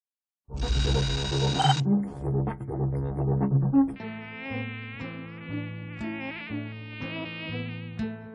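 A flying tsetse fly gives a loud, close, continuous buzzing drone whose pitch wavers and shifts, with a harsher burst near the start.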